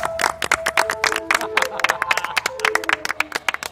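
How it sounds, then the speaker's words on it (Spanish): Enthusiastic applause from a rock concert audience at a show, a dense burst of many hands clapping close and loud with sustained tonal sounds threaded through. "Aplauso efusivo, por favor."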